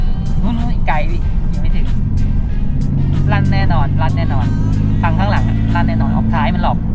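Remapped Isuzu D-Max with a 2.5 diesel engine, a heavy low rumble droning steadily close by while people talk over it.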